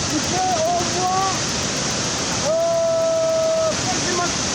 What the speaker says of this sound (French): C'est le cascade de Brochot. C'est géant.